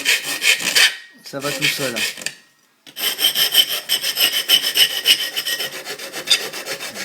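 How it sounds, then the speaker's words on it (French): A hand file shapes an aluminium part for a drum practice pad conversion, making rapid rhythmic rasping strokes up close. A short pause comes before more steady scraping, and a voice speaks briefly. "avec la lime, on va ajuster la forme."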